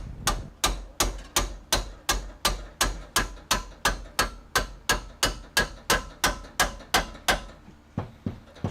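A sledgehammer strikes the front suspension parts of a 1991 Camaro during a front suspension swap: about twenty loud, evenly spaced metallic blows in a steady rhythm, each ringing briefly before the next.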